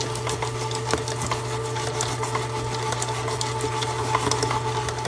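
Stand mixer slowly stirring coconut-flavored cookie dough, a steady low motor hum with faint soft rhythmic ticks and patters from the beater running continuously throughout, no talking.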